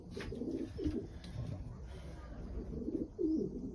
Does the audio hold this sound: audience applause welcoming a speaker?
no